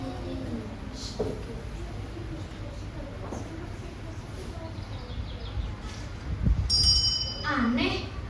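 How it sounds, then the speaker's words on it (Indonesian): A small bell is rung once in a science lesson on sound, giving a brief bright ring near the end while people talk quietly around it. "Kok dia bisa tahu aku membunyikan bel?"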